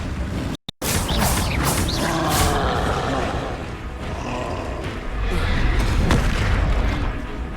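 A loud, booming Bombarda explosion spell from Hogwarts Legacy erupts, followed by a sustained rumbling roar and crashing debris that swells again toward the end.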